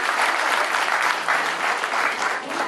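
A large assembled crowd claps loudly and continuously, a dense even wash of applause with no break.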